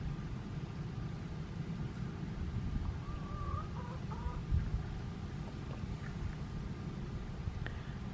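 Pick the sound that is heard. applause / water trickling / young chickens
young chickens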